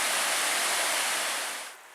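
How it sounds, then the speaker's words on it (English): Shining Cloud Falls, a waterfall in Michigan's Porcupine Mountains, a dense constant hiss of falling water heard up close and loud, easing off slightly at the very end. "And this is a view of Shining Cloud Falls"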